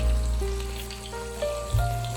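Chopped onion, tomato and five green chillies frying in a pan for potato egg curry, a steady crackling sizzle with a few soft utensil knocks, close and continuous, without talking.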